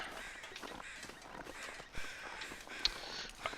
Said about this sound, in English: I think these crows weren't out earlier.